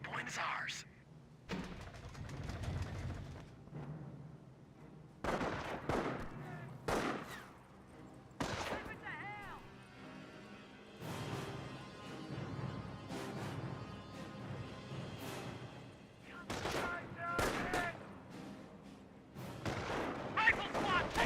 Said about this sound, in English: Rifle squad taking fire! Rifle squad engaging the Volksgrenadiers.